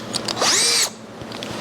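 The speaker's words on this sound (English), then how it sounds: "Sorry, Harbor Freight drill." A Harbor Freight electric power drill with a carbide bit drilling metal whines up sharply for about half a second, then cuts back to quieter grinding and clicks.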